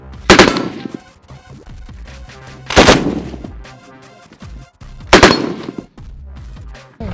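Armor-piercing rounds fired at captured Russian body-armor plates: three loud, sharp gunfire bursts spaced a couple of seconds apart, each ringing out and decaying into quieter background noise, with no talking.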